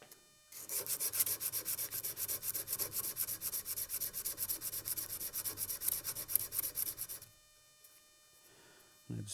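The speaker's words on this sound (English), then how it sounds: "And then I've just got some sandpaper wrapped around a file here." Sandpaper wrapped around a file rubbing back and forth over a Damascus integral knife handle, a close, rhythmic rasping scrape that keeps going for several seconds and then stops.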